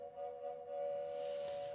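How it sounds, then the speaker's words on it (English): Train whistle sound effect on a theatre organ, a steady piping tone held for under two seconds with a breathy hiss swelling toward the end, heard alone without talk. "train whistle."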